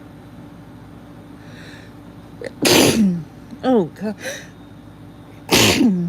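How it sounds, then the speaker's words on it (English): Two loud, sharp sneezes burst out a few seconds apart, with a brief spoken exclamation between them. "I gotta sneeze"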